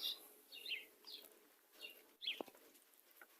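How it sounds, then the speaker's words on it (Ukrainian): Sparrows chirp in short, bright bursts scattered across the clip, with a quiet outdoor background between calls on a hot, humid summer day. "Горобчики, пташечки співають."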